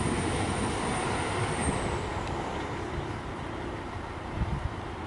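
A V/Line VLocity diesel train accelerating past a station near Waurn Ponds, heard as a broad, steady roar of engine and wheels with a faint high whine fading away.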